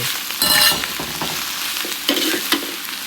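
Mama instant noodles with cabbage stir-fry in a hot pan, a close, steady sizzle broken by a few sharp spatula scrapes and tosses, no voices.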